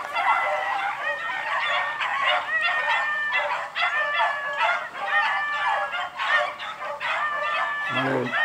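A male beagle puppy whines in repeated high, wavering cries over a steady background of dog and bird noise at an outdoor hunting kennel, with several short bursts throughout.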